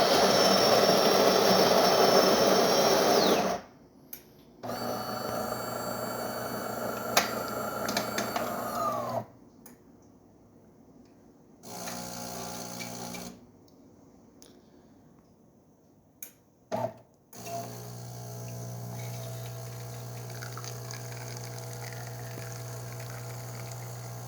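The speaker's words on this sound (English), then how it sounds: "Today we're testing this DeLonghi Magnifica XS espresso machine. Let's go ahead and pour a shot." A DeLonghi Magnifica XS espresso machine pumping a shot after a full tune-up: a loud, steady pumping drone runs for several seconds, stops, then resumes in shorter bursts with quiet gaps and a final lower hum.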